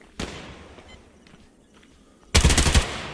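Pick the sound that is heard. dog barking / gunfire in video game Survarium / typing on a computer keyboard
gunfire in video game Survarium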